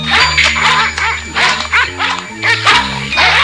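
Cartoon dogs bark angrily in quick, loud, overlapping bursts, with yips and growling tones close up and little pause between barks.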